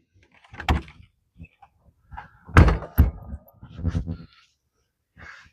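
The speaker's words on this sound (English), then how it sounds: "Knocking on Kevin's door" Knocking on a door at Bombay Beach, heard as several sharp, close raps and thuds in irregular clusters, with quiet stretches between and no talking.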